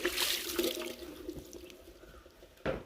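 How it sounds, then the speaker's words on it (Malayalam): Water poured onto a flat grinding stone while preparing henna leaves for hair, a continuous close splashing and trickling flow that tapers off, followed by a brief louder splash near the end. "ഫസ്റ്റ് വെള്ളം ഒഴിച്ചു."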